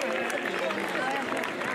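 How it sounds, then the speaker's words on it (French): Dense, continuous clapping from an audience at a French youth championship results announcement, steady and fairly loud for the whole short stretch. "on peut encore les applaudir"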